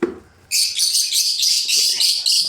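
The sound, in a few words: pet birds chirping in nest boxes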